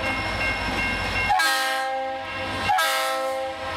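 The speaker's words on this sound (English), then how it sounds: "Listen closely, and you can hear the sound of the train and the sound of the whistle." A train passes through a downtown area at night and sounds its whistle in two long, loud blasts, with the rumble of the rail cars running underneath.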